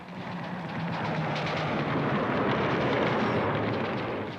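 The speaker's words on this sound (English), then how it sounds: "From 200 mobile sites, Soviet-supplied surface-to-air missiles search out the B-52s." Soviet-supplied SAM-2 surface-to-air missiles launched from mobile sites at B-52 bombers: a sustained, loud roaring rumble with crackling bursts, steady throughout and heard alone without voices.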